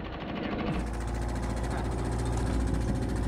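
A small four-stroke outboard motor mounted on a sit-inside kayak runs close by, a steady loud idling drone with a rough low rumble throughout.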